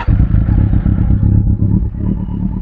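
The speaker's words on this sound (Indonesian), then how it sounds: "Kita tes suara mesinnya ya." A 2013 Kawasaki Z800 motorcycle, engine still cold, revs close by with a deep throbbing exhaust burble and a clattering pulse, loud and steady throughout.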